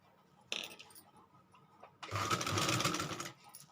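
Sewing machine stitching pleats on a salwar, first a short burst and then a longer, louder whirring run of rapid stitching close by, alone without talk.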